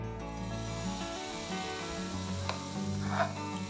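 Rice batter poured onto a hot, oiled pan for soru chakli, a soft hiss and gentle sizzle that swells as the batter spreads, heard close over a steady background hum.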